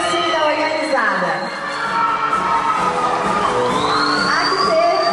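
Loud crowd at a Miss Nikkey beauty pageant cheering, whooping and shouting continuously, with high excited voices rising and falling throughout.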